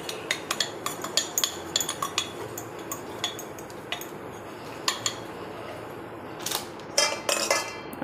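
A metal plate is set into a greased chakri press, giving sharp metallic clinks and taps that come in an irregular run, with a louder cluster of clanks near the end.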